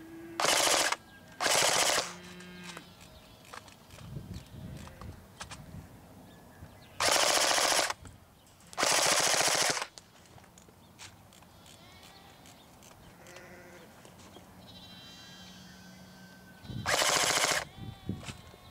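Real Sword Type 97 airsoft rifle firing full auto at an outdoor range, several loud, sharp bursts of rapid shots separated by pauses, with quieter background between strings and no talk.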